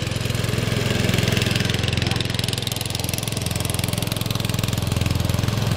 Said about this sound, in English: here's Perry blowing his snow.